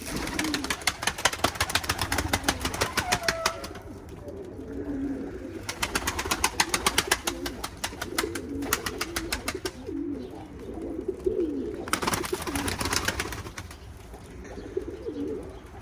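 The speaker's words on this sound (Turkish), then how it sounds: "Kuşların da neşesi yerine geliyor güneşi görünce." Pigeons coo repeatedly nearby in soft, rolling calls, with bursts of rapid rhythmic flapping or chattering that come and go in waves.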